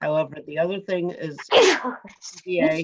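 A single sneeze bursts out at a planning and zoning commission meeting, sharp and close, cutting between stretches of a man's speech.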